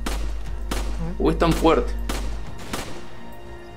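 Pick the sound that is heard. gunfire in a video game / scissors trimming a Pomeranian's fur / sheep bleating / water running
gunfire in a video game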